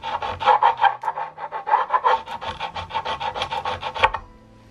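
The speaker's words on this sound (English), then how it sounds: "It's basically like a sanding surface, so I can actually sand the fret equal with all the other frets." A diamond sanding file rasps back and forth over a guitar fret in quick, regular strokes, close and fairly loud, with no talk, ending abruptly.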